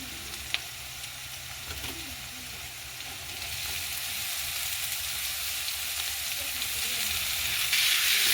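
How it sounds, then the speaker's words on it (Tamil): Dried anchovies frying in a pan with onion and a ginger-garlic paste while being stirred, giving a steady close sizzle that grows gradually louder, with a few soft scrapes near the start. "இப்போ நாங்கள் நெத்தலி கருவாடையும் இந்த வெங்காயம் இஞ்சி உள்ளி பேஸ்டோட சேர்த்து அப்படியே நல்ல வடிவாக கிளறி விடுறோம்"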